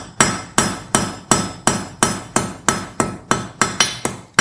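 A blacksmith hammers while forging a nail, a dozen sharp, loud ringing blows struck at an even, quick rhythm, close by with no talk.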